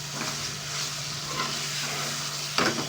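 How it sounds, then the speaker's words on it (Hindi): Chicken and chickpeas sizzle and fry in a pan while being stirred for a chicken chana dish, a steady close hiss with a low hum underneath and a sharper scrape of the spoon near the end. "चिकन और छोले की भुनाई कर रहे हैं"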